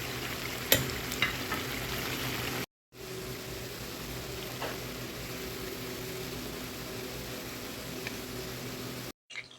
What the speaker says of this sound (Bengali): এখানে আমি পেঁয়াজটা বেরেস্তা করে নিচ্ছি একদম স্পিড ব্রাউন করে